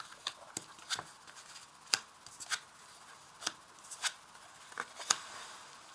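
Tarot cards turned over one at a time on a table, giving soft, sharp flicks and slaps at irregular intervals, fairly close and quiet, with no talking.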